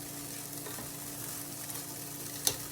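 Onions and peppers fry in a pan, giving a soft, steady sizzle close by with a faint hum and one sharp clink near the end, with no speech.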